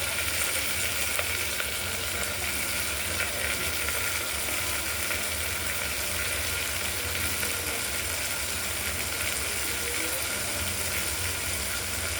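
Washed moong dal poured into hot oil with toasted cumin seeds gives a loud, dense, unbroken sizzle that holds steady throughout, close up, with no talking.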